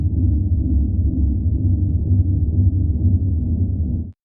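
A techno rumble bass run through a Lustrous Plate reverb at fully wet plays as a loud, sustained, low rumbling drone that smears along without breaks and then cuts off abruptly.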